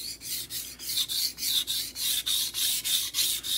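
Steel knife blade drawn back and forth across a sharpening stone to grind a new bevel down to an apex, a steady rhythm of about a dozen close, gritty rasping strokes with no talk.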